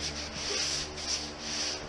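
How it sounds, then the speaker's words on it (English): A sanding sponge rubs steadily across a drywall ceiling skim coat in a rhythmic back-and-forth scrubbing, close and fairly soft, with no voices. "I'm going to start sanding at the ceiling and work my way down."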